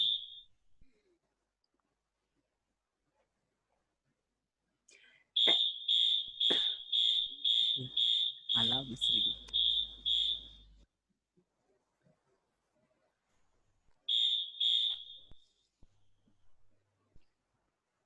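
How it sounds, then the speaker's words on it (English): A home alarm system sounds a run of rapid, loud, high-pitched electronic beeps, then falls silent, then gives two more beeps near the end, with faint speech and noise between. "that's my alarm system going off."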